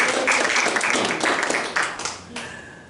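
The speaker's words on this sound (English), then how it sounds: "And usually at this point, people applaud." An audience at a mind reading show claps in a loose, fading burst of applause, moderately close, with a voice speaking over it.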